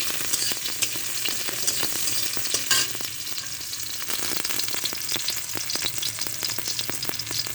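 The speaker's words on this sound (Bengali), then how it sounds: "আগে উচ্ছেটা আমি ভেজে নেব" Bitter gourd fries in hot oil with a loud, continuous sizzle and crackle close by, stirred now and then, with no talking.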